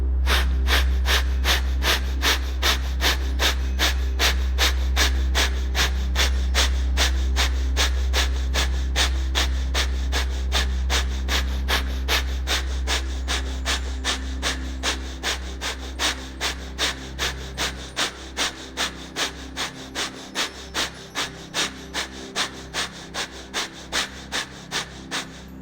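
Rapid pumping breaths from a hatha yoga breathing exercise, a fast steady rhythm of sharp nasal exhalations repeating for the whole stretch, close and clear over a low steady hum, slightly slowing and spacing out toward the end.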